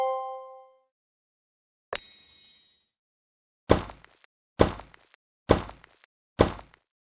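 Building a cat house in the Piper's Pet Cafe video game: a short chime, a bright shimmering clang, then four evenly spaced hollow thunks, each with a quick decay, clean and isolated with no speech.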